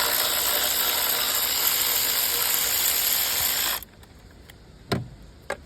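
A ratchet working a 10 mm bolt on the wiring harness of a Kia Sorento engine, a loud continuous rapid clicking that stops abruptly, followed by a few faint metallic knocks.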